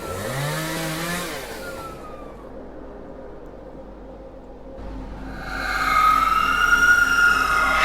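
A saw running in a demon-hunter murder-mystery video game, a loud buzzing motor that builds to a harsh, whining rev toward the end, set over dull background ambience.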